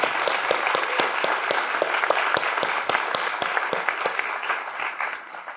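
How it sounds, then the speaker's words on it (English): A conference audience at BazelCon 2022 gives sustained applause, dense rapid clapping from a large crowd that fades slightly at the end. "I think this is now worth a huge round of applause"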